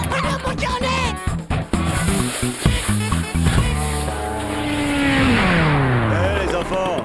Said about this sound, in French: Waouh, une moto des neiges géniale.